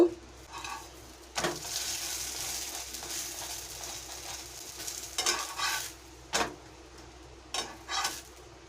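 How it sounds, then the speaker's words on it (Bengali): Potato kulcha fries in ghee on a pan, giving a steady soft sizzle with scraping stir and spatula sounds, plus a few louder clatters near the middle and end. "এবারে আবারও আমি একটু ঘিয়ে দিয়ে দেব"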